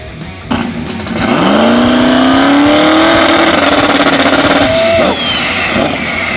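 A Mitsubishi Evo drag racing at Famoso Dragstrip, loud engine rising steadily through hard acceleration with a climbing whine, sustained near full throttle for several seconds before cutting off abruptly.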